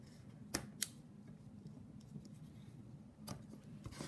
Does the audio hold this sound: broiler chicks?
no